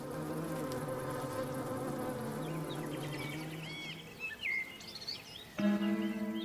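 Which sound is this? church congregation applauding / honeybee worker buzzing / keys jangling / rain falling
honeybee worker buzzing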